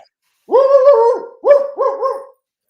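A dog barks excitedly indoors, three loud, close, yelping barks with a howling, drawn-out tone, the first long and the last two quick in succession, then silence.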